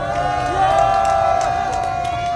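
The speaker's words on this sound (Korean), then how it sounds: "따뜻한 박수로 우리 최재형 목사님을 맞이해 주시면 고맙겠습니다" A crowd at a candlelight protest rally outside the presidential residence near Hangangjin Station cheers and shouts as a pastor is welcomed, loud and sustained over a steady amplified tone.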